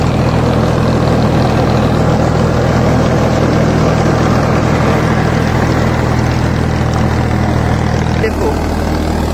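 A Farmtrack 65 EPI tractor runs under load while working an 8-foot rotavator, its engine making a loud, steady, continuous drone that stays close and even throughout, with a slight shift near the end.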